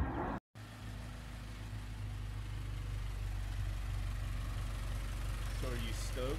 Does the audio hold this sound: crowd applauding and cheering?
no